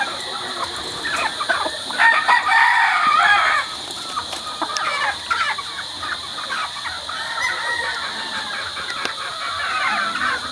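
A gamefowl brood bull stag rooster crows loudly and close, a long strained call followed by clucking and shorter vocal bursts over a steady background hum.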